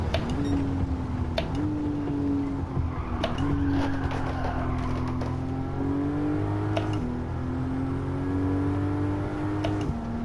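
A racing car in Gran Turismo 7 on tire tests, engine droning loud and close with its pitch stepping up through gear changes and dropping under braking, tire and mechanical whir beneath.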